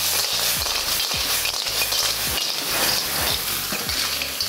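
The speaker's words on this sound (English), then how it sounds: "just gonna use my wok here to cook up these clams" Clams sizzle and fry in a hot wok, a loud continuous crackle broken by repeated scraping stirs and clanks of the utensil against the pan.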